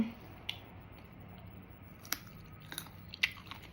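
Someone chews crunchy jackfruit close to the mic, with a few sharp crisp bites and crunches spaced through a quiet background.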